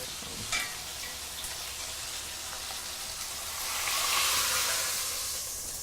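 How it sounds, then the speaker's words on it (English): Steady sizzling and crackling hiss from vegetables roasting in a hot pan, continuous and close, swelling slightly louder toward the end with no talking. "Keep in mind you still have some sizzling going on behind you"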